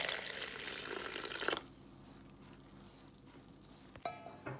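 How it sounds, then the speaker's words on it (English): Water pours from a tap into a well of flour for kneading a firm dough, a loud, steady rushing stream that stops abruptly, followed by quiet and a few small clinks close by. "So we're gonna make a well, and then I'm gonna start adding water."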